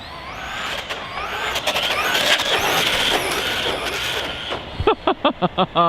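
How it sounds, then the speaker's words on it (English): A stock ARRMA Kraton 4S BLX RC car accelerating at full throttle, a loud rising electric motor whine with tyre chatter, then sharp bursts as the throttle is pulsed near the end. "I should be popping wheelies when I floor it"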